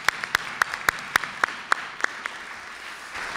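Sparse, slow claps ring out one at a time at a STEM festival gathering, a handful of distinct hand claps spaced evenly over a faint room background, fairly quiet and then trailing off.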